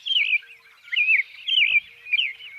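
A robin sings in repeated warbling phrases, four bright bursts separated by short pauses, close and clear, with another bird faintly calling farther off behind it.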